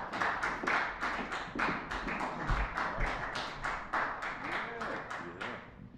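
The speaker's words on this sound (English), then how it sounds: "round of applause." Steady applause from an audience at a livestreamed show with a string quartet and jazz trio, many hands clapping densely and evenly for about six seconds, with faint voices underneath toward the end.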